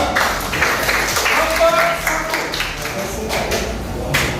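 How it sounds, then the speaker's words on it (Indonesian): A classroom of students applauds a presenting group during a lesson discussion, steady clapping spread across the room for several seconds, with voices heard alongside. "Tepuk tangan untuk kelompok 2."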